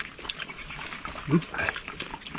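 A dog gives a short bark amid muffled background noise and faint voices.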